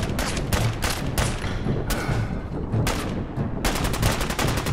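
Rapid bursts of gunfire aimed at giant spiders in Fallout 4's Nuka World, repeated volleys cracking almost nonstop over a dense, loud game soundscape.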